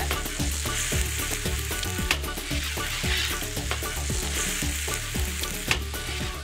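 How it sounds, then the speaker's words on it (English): Bomba rice frying in sofrito crackles with a dense, steady sizzle while a spoon repeatedly scrapes and taps the pan in an irregular rhythm, close and fairly loud, without talk. "Cook the rice until the grains are shiny."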